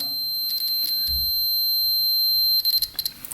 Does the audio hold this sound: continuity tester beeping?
yes